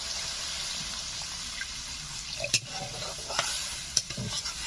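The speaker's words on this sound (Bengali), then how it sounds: "মশলা ভালো করে কষিয়ে নিয়েছি, এখন দিয়ে দিচ্ছি জল।" Water poured into fried masala for a village-style Ritha fish curry, a soft hiss and bubbling with a few clinks and scrapes of the utensil against the pan, close and fairly quiet.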